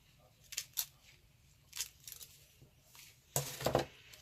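Scissors trim crepe paper in a few short, separate snips, with a louder cluster of cuts near the end.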